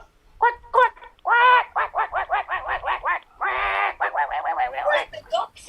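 Ducks quacking as a sound effect, a loud close run of repeated nasal quacks in quick bursts, including a few longer drawn-out calls.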